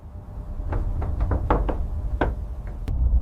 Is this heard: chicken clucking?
no